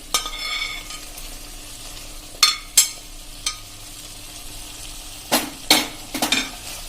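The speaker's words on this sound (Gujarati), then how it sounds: "અને એને પણ આપણે આ રીતે મિક્સ કરી દેશું." Chopped ridge gourd and chillies fry in a pan with a soft, steady sizzle under sharp scraping strokes of a spoon stirring the mix, a few isolated scrapes early and a cluster near the end, with no talking.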